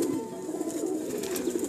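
Soft, continuous cooing of a baby pigeon, low and steady throughout, close by and moderately quiet with a faint airy background.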